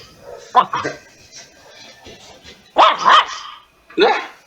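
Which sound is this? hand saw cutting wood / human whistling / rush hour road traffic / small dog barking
small dog barking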